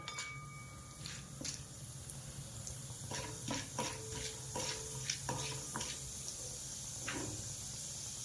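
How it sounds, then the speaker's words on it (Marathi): Chana dal roasting in oil in a pan, stirred steadily, with a soft sizzle and repeated scraping strokes of the spoon, close and moderately loud, with no talking. "अशी थोडीशी खरपूस भाजून घ्यायची चांगली तेलामध्ये, डाग पडेपर्यंत भाजायची हिला जरा।"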